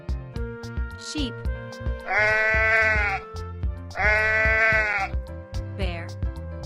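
A sheep bleats twice, each call a loud, wavering, drawn-out cry about a second long, with a steady musical backing running underneath throughout.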